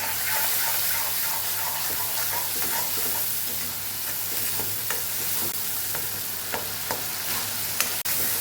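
Spice masala with turmeric and salt sizzles in a pan for a Kathiyawadi white kantola (spiny gourd) curry, with a steady frying hiss and occasional sharp scrapes and taps of stirring, close and without speech.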